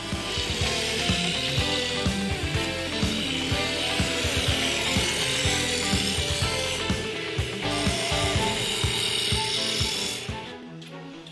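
A craftsman works wood by hand for a custom billiard cue, making a continuous, dense rasping and scraping that stays close and loud before easing off at the end.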